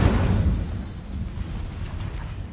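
Incendio fire spell cast in Hogwarts Legacy, a loud burst that opens with a heavy whoosh of flame and settles into a low, rumbling roar for a couple of seconds.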